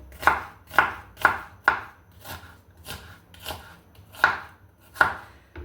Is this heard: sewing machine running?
no